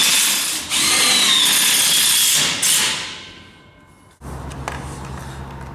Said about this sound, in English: I'll just screw it in.